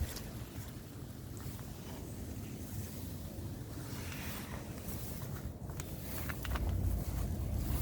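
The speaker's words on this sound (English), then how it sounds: "It's windy, but it's not that cold." Wind gusting outdoors on a sunny day, a steady broadband rush with low rumbling buffeting on the microphone that swells louder near the end, with no talking.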